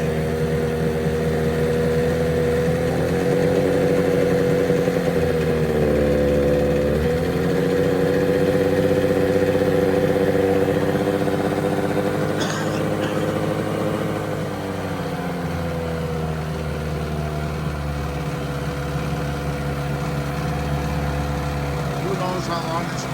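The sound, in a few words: 1990 Evinrude 15hp outboard motor running on test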